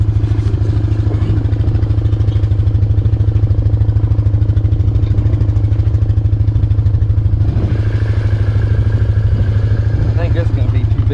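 Old vehicle engine idling and running steadily while hooked to a concrete-filled track roller, a loud close rumbling drone with rattling clatter, with people talking over it.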